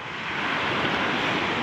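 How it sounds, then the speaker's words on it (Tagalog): Ocean surf after a typhoon, a steady broadband wash of waves with wind buffeting the microphone, loud and continuous with no talk. "Ang alon."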